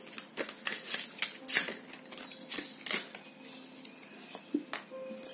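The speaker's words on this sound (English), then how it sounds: "So let's shuffle and pull some cards for your past, present, and future." Oracle and tarot cards being shuffled by hand during a reading, a run of soft papery riffles and flicks with sharp slaps, close and fairly quiet, with no talking.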